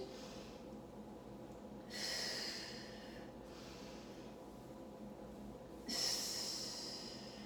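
A person exhales during a mat Pilates workout: two soft, close, breathy outward breaths about four seconds apart, each fading gently over a quiet background.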